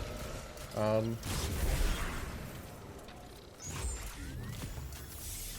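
Weapon fire in the game Destiny 2: a few quick shots and bursts over a continuous game backdrop, mid-level and fairly close, with a voice talking intermittently.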